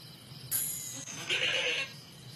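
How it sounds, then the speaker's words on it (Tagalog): Goats bleat twice, a brief cry and then a longer wavering call, heard moderately near over quiet background noise. "Kambing pala. Akala namin tupa sila."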